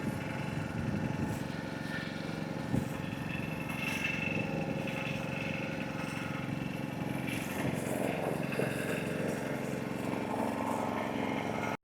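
A motor boat engine drones steadily throughout a sea boat ride near a beach, among anchored fishing trawlers. The hum is loud and unbroken, with wind and water noise mixed in and no clear talk.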